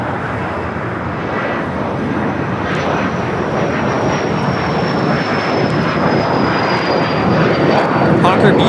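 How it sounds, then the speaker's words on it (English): Hawker Beechcraft 400A business jet taking off from LAX, a steady loud engine roar building slowly with a faint high whine drifting across, heard from the airport side. "Hawker Beechcraft 400A taking off to Salt Lake City"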